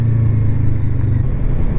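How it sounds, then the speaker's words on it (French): A motorcycle engine holds a steady, loud low rumble close by, the throttle turned at a normal rate rather than wide open, with no talk over it. "Maintenant, il faut que j'accélère normal."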